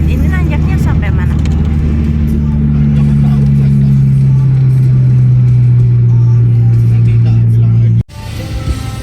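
Traffic on the steep Sitinjau Lauik climb in West Sumatra, with a steady loud engine drone of vehicles queued going up and down, close by and continuous, a sustained low rumble that cuts off abruptly near the end.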